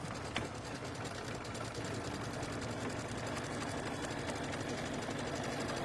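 A sewing machine runs steadily throughout, piecing a shamrock table runner, its fast, even needle rhythm continuous and fairly close with no talk over it.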